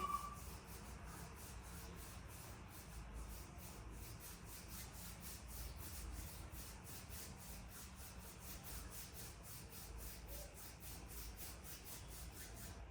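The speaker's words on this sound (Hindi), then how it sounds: "हाथों को आपस में इस तरीके से फिर से रब करें।" Two hands rubbing briskly together during a self-healing energy exercise: a steady, soft, dry friction swish that repeats in an even rhythm for the whole stretch, quiet and close, with no talking.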